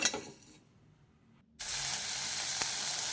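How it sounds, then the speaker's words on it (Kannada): Cinnamon and coriander seeds dry-roasting in a pan without oil, a brief stir first, then a quiet pause before a sudden loud, steady broadband sizzle and rustle fills the rest. "ಇದನ್ನು ಡ್ರೈ ಆಗಿ ಹಾಗೆ ಹುರ್ಕೋಬೇಕು"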